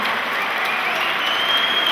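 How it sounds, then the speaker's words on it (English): Crowd at a semi-pro MMA event applauds the two fighters after a bout, a dense, loud, continuous roar of clapping filling the whole moment without a break. "please give a big round of applause to our two fighters"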